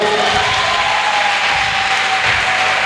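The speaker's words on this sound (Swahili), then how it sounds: "Simpe makofi." A church audience gives loud, sustained applause, a thick continuous wash of clapping with some cheering mixed in, steady from start to finish.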